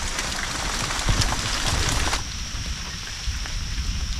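Steady rain falls in a forest, a dense, continuous hiss of drops on leaves and ground that holds at an even level throughout, with no voices.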